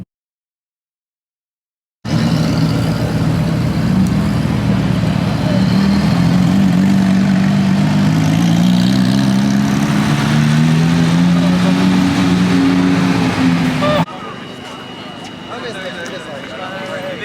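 A warmed-up car engine in Tokyo idles steadily and then revs, the low rumble rising and falling in pitch over about twelve seconds, close and loud.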